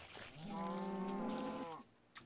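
A Minecraft cow lets out a single drawn-out moo in the video game, loud and close, with no talk over it.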